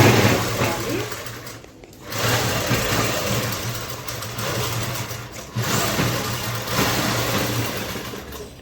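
Sewing machine running steadily while stitching a loose-fitting child's dress, a continuous close mechanical hum with a brief pause near the start and another dip midway.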